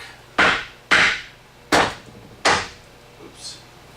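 Four sharp hammer blows strike wood in a garage, struck with a non-carpentry hammer at an uneven, deliberate pace and loud and close, followed by a faint trailing sound.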